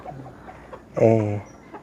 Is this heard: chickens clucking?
yes